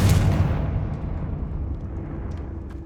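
A Confringo fire spell in Hogwarts Legacy detonates with a heavy, close boom, followed by a long crackling, rumbling tail that slowly fades, with no voices.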